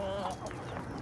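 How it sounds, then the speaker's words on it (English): Young chicks and pullets in a backyard flock cluck and chirp softly and continuously at close range, with several overlapping calls and no talking. "Here's our week 2, week 3 chicks."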